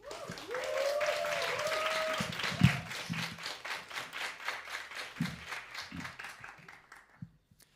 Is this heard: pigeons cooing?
no